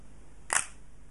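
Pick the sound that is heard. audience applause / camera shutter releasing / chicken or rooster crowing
camera shutter releasing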